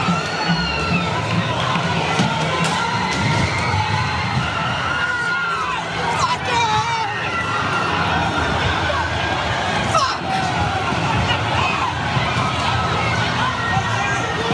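A street crowd at a rally screams and shouts as a car drives into it, a dense continuous roar of panicked voices with sharp yells and bangs, loud and close throughout.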